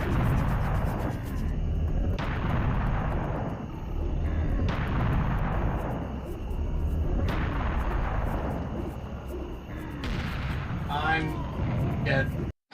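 Repeated heavy booms of cannon fire in a video game, roughly every two to three seconds, loud with rumbling tails, and a voice briefly heard near the end.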